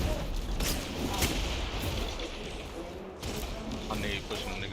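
Gunfire hitting the player in the video game Destiny 2, dense overlapping shots and booming impacts, loud and close, with a voice speaking over the chaos.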